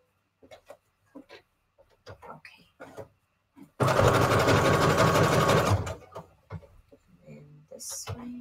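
Sewing machine stitching fabric scraps for Christmas embellishments, one loud continuous run of about two seconds, with someone talking quietly before and after it.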